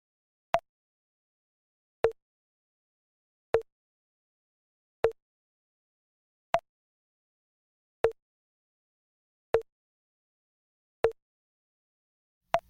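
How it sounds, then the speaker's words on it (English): A metronome set to 40 beats per minute clicks nine times, each tick sharp and isolated with long silent gaps between, evenly spaced and fairly quiet. "A 40 beats per minute setting goes like this."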